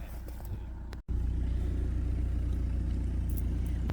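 A canal boat's engine driving it forward off the sill inside a lock, a low steady diesel rumble that kicks in after a brief pause and holds evenly, close and fairly loud.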